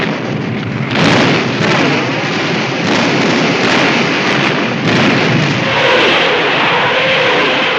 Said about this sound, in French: des canons et des katyushas qui, de l'autre côté du fleuve, tirent sur les Allemands jour et nuit